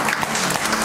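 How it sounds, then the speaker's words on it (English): A church congregation claps together during a Sunday service, dense, loud and continuous, filling the room. "let's give the Lord a hand clap this morning."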